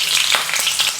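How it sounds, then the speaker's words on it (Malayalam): Green chilies sizzle and fry in hot oil in a pan, ahead of onions for a Saravana Bhavan style gostu curry, giving a steady close crackle with brief bursts of spitting and no talking. "ഞാൻ സവാള ആഡ് ചെയ്യുന്നതിന് തൊട്ട് മുമ്പായിട്ട് പച്ചമുളക് ആഡ് ചെയ്ത് കൊടുക്കുകയാണ്"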